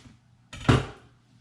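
A knife chopping the ends off celery on a kitchen cutting board, a single sharp, close chop with a brief thud, set in quiet surroundings.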